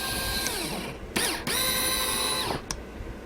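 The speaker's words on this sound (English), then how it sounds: "The blinds are electric. They go up and down." Electric window blinds in a custom vehicle interior with hand-rubbed knotty pine burl cabinetry run up and down with a steady whining motor hum, stopping briefly and restarting before a final click, close and alone.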